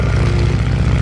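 A Continental piston aircraft engine of 670 cubic inches with a variable pitch propeller runs close by at an airshow, a loud steady throbbing drone with no talk.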